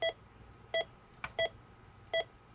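Repeated electronic beeps on a phone recording, four short tonal pulses at roughly even intervals, with a softer click between them over a quiet line.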